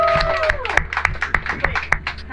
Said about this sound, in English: Can we give a round of applause for our helms person who took us here?